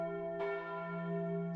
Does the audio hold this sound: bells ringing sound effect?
yes